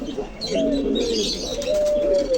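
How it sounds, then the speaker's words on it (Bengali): Golden pigeons at a pigeon shop in Khulna's Boro Bazar bird market give two drawn-out, close coos over a busy market hum. "এখানে আছে এক গোল্ডেন কবুতর"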